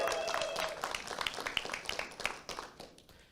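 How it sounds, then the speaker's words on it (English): Applause and clapping from an audience at a city council installation ceremony, a steady wash of many hands that rises and tapers over a few seconds, with some voices mixed in. "Give yourselves a round of applause."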